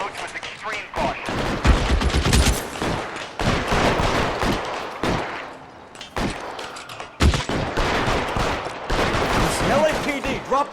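Heavy gunfire from a police shootout in the video game L.A. Noire, dense bursts of automatic and rapid shots that surge and break off several times, loud and close, with voices heard at points.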